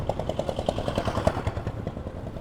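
A motorcycle engine running close by with a rapid, even putter, steady and moderately loud over its short span, with no voices.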